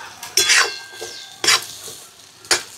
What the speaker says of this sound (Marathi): मी हे आपले वाटून घेतलेले सोयाबीनचे दाणे याच्यात टाकून देते मस्त